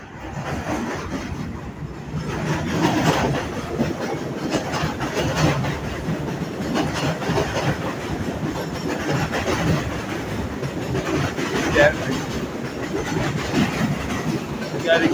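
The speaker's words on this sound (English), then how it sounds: "Another train." A New York City train passes in the Queens area near Aqueduct Racetrack and South Ozone Park, a steady, loud rumble with rattling wheels lasting throughout.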